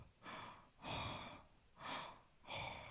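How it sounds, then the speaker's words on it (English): Heavy, slow breathing of the masked killer in the 1978 horror film Halloween, four drawn-out breaths in a steady rhythm, close and rasping, with no talk over it. "You can also hear him breathing."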